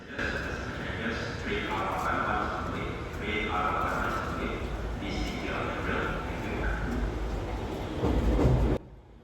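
An R151 metro train rumbles and hisses as it pulls into Tuas Link Station in Singapore, with a crowd murmuring and cheering on the platform throughout.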